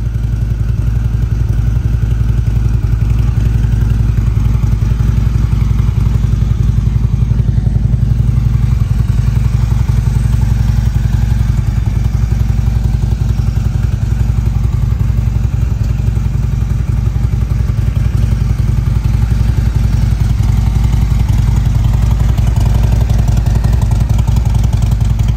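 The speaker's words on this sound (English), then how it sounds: "it's been more than 15 years since I've ridden a Harley" A Harley-Davidson motorcycle engine rumbles continuously while riding, a loud, close, deep throbbing drone that holds steady the whole way through with no talking.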